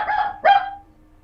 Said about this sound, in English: Is that a dog or Rongo laughing?